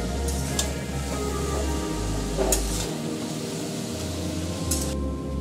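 Cabbage is stir-fried in a pan with steady sizzling and scraping stirs, a low hum running underneath, and a few brighter hissing bursts as the pieces are turned.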